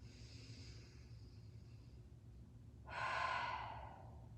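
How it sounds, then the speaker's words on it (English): Deep, slow breath released through the mouth during a restorative yoga session, a soft airy exhale swelling near the end after quiet breathing over a low steady hum. "exhale through the mouth. Inhale, let go."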